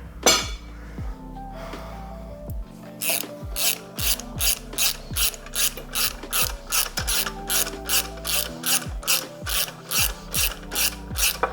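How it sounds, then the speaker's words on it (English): Bolt being threaded back in by hand ratchet on a Toyota 3SGE engine during a Corolla GTS swap, a steady run of close, rhythmic ratchet clicks with fast repeated strokes over a low mechanical hum. "Just thread that bolt back into there."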